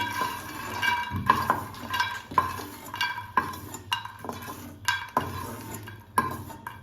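Roasted fox nuts (makhana) being scooped out of a metal pan, a series of close, sharp metallic scrapes and clinks of a spoon against the pan in an uneven rhythm, with a faint sizzle underneath.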